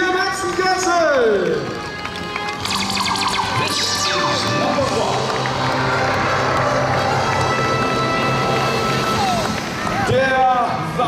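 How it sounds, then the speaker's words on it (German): Crowd applause and cheering at a German tractor pulling event, a broad roar of clapping and shouts that holds through the middle while an announcer talks over it at the start and end. "Einen riesen Applaus für Black Madness und Ralf Kuhn, Platz 1 hier im Hexenkessel"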